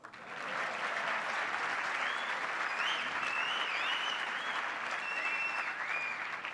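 Applause from a seated audience at a business panel, swelling quickly into dense, even clapping that holds steady, with a few faint whistles and cheers above it.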